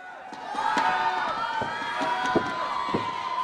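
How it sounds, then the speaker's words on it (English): Wrestling crowd at a Top Tier Wrestling show roars and cheers in a steady, loud wash, with sharp shouts and thumps cutting through at intervals. "This crowd getting behind him."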